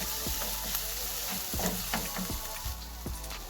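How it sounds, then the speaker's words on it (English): Vegetables and garlic sauté in a pan with a constant frying hiss and scattered clicks and scrapes of a utensil moving the food, moderately close. "Once you get your veggies all sauteed up with the garlic"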